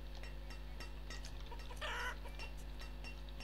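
Chickens clucking in the city-building game Banished, a few soft, short clucks over a steady low hum, with one slightly louder burst midway.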